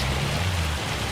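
Hail and rain pour down in the Farming Simulator 25 video game, a dense, loud, continuous hiss of pelting precipitation with a low rumble underneath and no talking.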